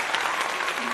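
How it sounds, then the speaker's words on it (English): A short burst of dense group applause, with many hands clapping close together, fills about a second with no break. "Let's give a applause"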